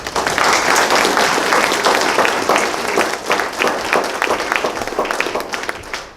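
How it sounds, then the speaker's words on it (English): An audience at a Boy Scout troop's Eagle Scout court of honor bursts into a loud round of applause, dense clapping from a crowd that holds strong and then slowly thins out. "So I'll give them a round of applause"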